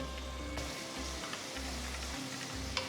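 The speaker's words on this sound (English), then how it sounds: "Just mix that in and saute it for about 2 minutes" Chopped carrot, beans and fresh peas saute in a pan for a jowar millet khichdi, giving a steady, close sizzle and crackle with faint stirring over a low background hum, and no voices.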